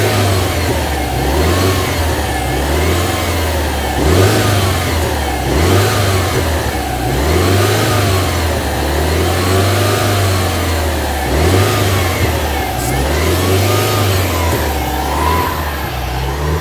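A 2006 Subaru STI engine being revved repeatedly during an upper engine cleaner treatment, loud and close, rising and falling in slow regular blips from idle without reaching redline.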